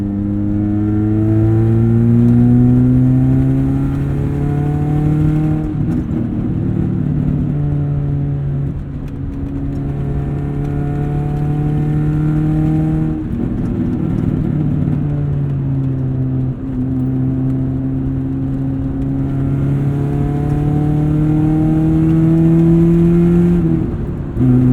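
A 1996 Saturn SC2 engine revs while driving, heard close from inside the car. The pitch rises and falls in several repeated climbs as the car accelerates and shifts, loud and steady, with no talking.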